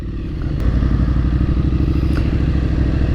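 A Triumph Street Scrambler 900 with a 900 cc engine runs close by, its deep, throbbing exhaust pulsing steadily and loudly throughout with a few light clatters on top.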